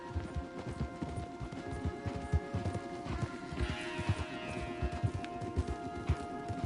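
Horse hooves clip-clop in a steady, uneven rhythm over a low ambient drone in a video game, fairly close and continuous throughout.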